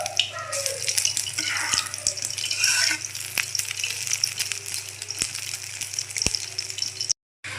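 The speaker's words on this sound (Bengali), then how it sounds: "এই তো ডিমগুলো ভাজা হয়ে গেছে" Eggs fry in hot oil in a home kitchen, producing a continuous soft sizzle and crackle with a few sharp utensil clicks, close by and without talk, cut by a brief silence near the end.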